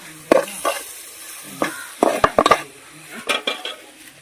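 A spoon stirs raw jackfruit biryani masala with yogurt and chili powder in a metal pot, giving scattered scraping clinks and soft wet churning in irregular bursts, close and moderately loud.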